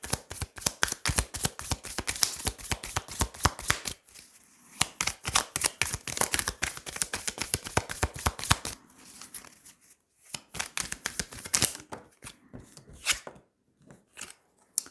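Tarot cards being shuffled in rapid rhythmic riffles and flicks, close and crisp, coming in bursts with short pauses in between; no talking.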